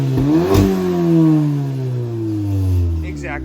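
An Audi S3 engine revs up sharply through its factory exhaust, then its pitch slowly falls as it settles, close and rattly like a tin can, with a brief voice near the end.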